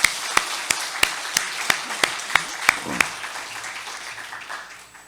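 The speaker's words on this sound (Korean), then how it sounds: "우리 수고한 모두를 위해서 격려의 박수 하도록 하겠습니다." A Sunday church congregation in Daegu claps together in a slow, steady unison rhythm of about ten crisp beats, then falls quiet over faint room tone.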